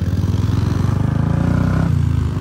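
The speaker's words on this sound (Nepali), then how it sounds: "स्टार्ट भइहाल्यो अहिले बाइक" A Royal Enfield motorcycle that had a starting problem runs after being started, its engine thumping in a fast, steady, loud pulse that dips as the revs change near the end.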